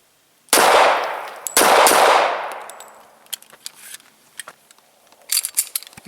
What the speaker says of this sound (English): we're going to shoot a couple live rounds